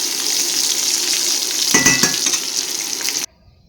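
Birista, thinly sliced onions frying for pulao, sizzles steadily and loudly in a pan, with a brief stir and clink of a utensil before the heat is cut and the sizzle stops abruptly.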